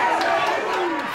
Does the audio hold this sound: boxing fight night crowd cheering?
yes